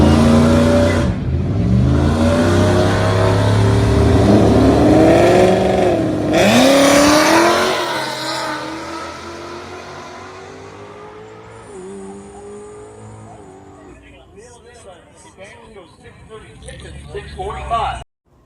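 A Mustang, given as both a 2019 model and an S197, launches at a drag strip with a loud roaring engine that revs up, bogs briefly from wheelspin, then pulls away into the distance while people talk nearby.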